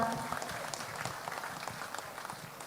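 A crowd applauds the governor at a provincial sports games opening ceremony, a dense burst of clapping that starts loud and slowly fades over a couple of seconds.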